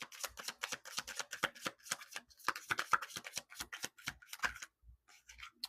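A deck of tarot cards is shuffled in a steady run of rapid, crisp riffles and slaps, close and fairly quiet, before a brief pause and a few final taps.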